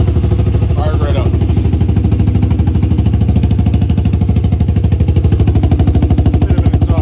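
A 2001 Yamaha Grizzly 600 ATV engine idles close up with a fast, even chugging pulse and a slight exhaust leak, running steadily throughout at high volume.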